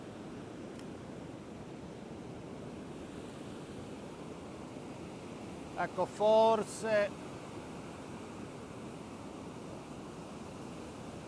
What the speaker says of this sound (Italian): Il mare è effettivamente molto mosso.